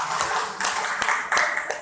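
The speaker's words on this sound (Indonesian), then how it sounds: "Tepuk tangan untuk Pak Saroni dulu." Audience at an Indonesian alumni gathering clapping in scattered bursts, a few sharp hand claps standing out over a thin, uneven patter that swells and fades across two seconds.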